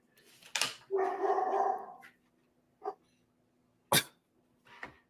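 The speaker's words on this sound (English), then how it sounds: "Can you hear him bark?" A dog barks close by in a few separate bursts, one longer rough bark followed by shorter sharp ones with quiet between them.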